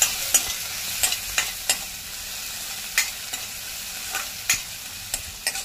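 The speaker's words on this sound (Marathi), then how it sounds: "मस्त चरचरून फोडणी बसायला पाहिजे आपल्या ठेच्याची, जेणेकरून त्याचा स्वाद त्या तेलात उतरेल" Crushed garlic and green chili tempering crackles and sizzles in hot oil, with sharp spattering pops scattered over a steady frying hiss, close and fairly loud with no voices.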